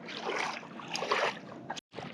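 Paddleboard carried through shallow river water over a sandbank, with steady splashing and sloshing of feet wading through the water, close and continuous, briefly cutting out near the end before resuming.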